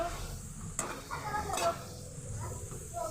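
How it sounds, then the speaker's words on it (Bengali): Potatoes fry in a pan in a home kitchen, giving a faint sizzle with occasional stirring clinks and scrapes from a utensil. "এখানে আলু ভাজা হচ্ছে"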